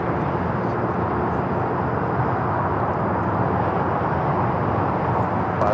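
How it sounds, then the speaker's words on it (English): An Airbus A320 arriving at Los Angeles International Airport on a flight from Monterrey, Mexico, produces a steady, loud broadband jet roar. The rumble holds constant and close with no break. "This flight coming in from Monterrey, Mexico. It's flight 622 on the A320."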